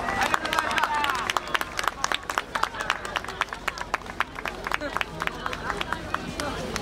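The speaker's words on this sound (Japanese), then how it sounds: "もう一度温かい拍手の方をお願いいたします" A festival crowd at the Koiya Matsuri gives warm applause, with dense, steady outdoor clapping from many hands and a busy crowd murmur and voices in the background.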